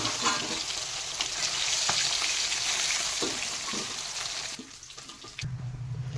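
Oily hilsa fish frying in hot oil in a home kitchen, a steady close sizzle that drops away abruptly near the end, followed by a low hum.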